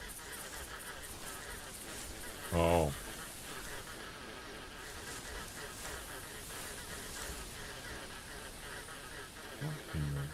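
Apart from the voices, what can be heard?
goose honking, from the video game theHunter Classic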